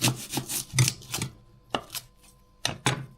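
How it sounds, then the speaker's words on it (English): A kitchen knife cuts the stalk off an onion on a board, giving a few sharp, close chopping taps and rasping scrapes separated by short quiet gaps. "So if you just chop off the stalk"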